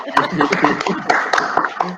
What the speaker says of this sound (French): Alors, on peut vous applaudir quand même, hein?